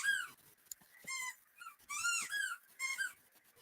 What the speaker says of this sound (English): They over here squeaking the hell out of that toy, ain't they?